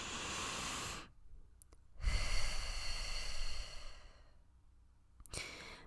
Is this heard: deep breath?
yes